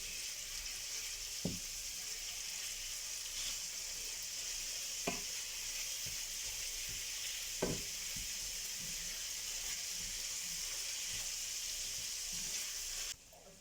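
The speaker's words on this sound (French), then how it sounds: "Et je vais venir mélanger mes oignons, mes poivrons avec mon steak haché." Ground beef with onions and peppers sizzles steadily in a pan for a filling for crispy kefta and cheese bricks, with a few sharp stirring scrapes over the constant frying hiss.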